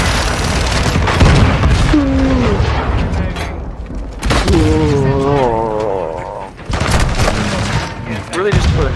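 A grenade explodes in Call of Duty Modern Warfare 2 multiplayer Hardpoint: loud, heavy booms mixed with bursts of gunfire, close and dense, with voices and game sounds layered underneath.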